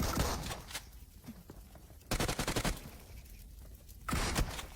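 Bursts of rapid gunfire in PUBG Mobile crackle in three loud rolling volleys separated by quieter stretches of scattered shots and noise.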